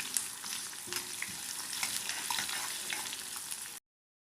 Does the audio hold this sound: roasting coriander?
yes